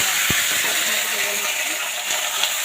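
Fish frying in oil tempered with black cumin seeds, a steady close hiss and sizzle running unbroken throughout, with a few faint clicks of a spatula.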